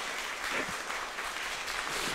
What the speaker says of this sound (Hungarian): Én hármat számolok, ti nyomjatok egy nagy tapsot.